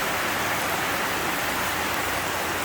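Heavy tropical rain pouring steadily in the Philippines after half an hour of downpour, a dense continuous hiss close by with no break and no voices.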